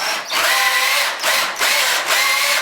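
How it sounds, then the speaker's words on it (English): A power drill whirs in several short bursts separated by brief pauses, close by and loud, churning through thick drywall mud as it mixes it. "My drill actually has a low speed and a high speed."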